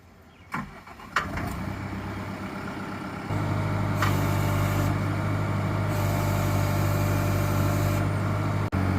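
A New Holland skid steer fitted with a jaw crusher cranks with a few sharp clunks, then its diesel engine catches and settles into a loud, steady close-up idle rumble.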